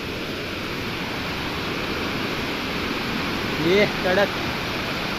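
Loud, constant rush of the Navlai waterfall at Hedvi fills the whole clip, with a short burst of voices briefly heard over it near the end.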